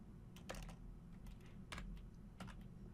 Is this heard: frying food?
no